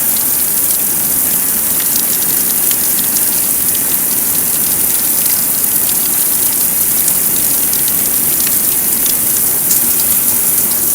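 Water pours heavily onto a Columbia rain jacket, a dense, constant hiss like a downpour that stays loud and unbroken throughout.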